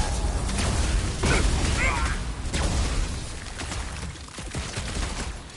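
Bursts of game gunfire crackle through a chaotic battle in Guardians of the Galaxy, layered with mechanical clatter and booms at a steady, busy level throughout.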